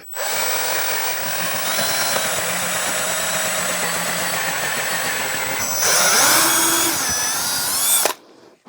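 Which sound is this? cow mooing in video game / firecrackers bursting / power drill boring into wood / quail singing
power drill boring into wood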